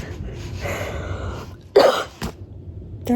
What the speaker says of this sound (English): I don't know why I always cough on camera.